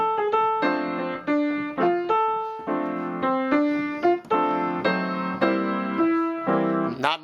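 Solo piano playing a song with steady sustained chords low in the left hand under a simple right-hand melody, moderate tempo, clear and close.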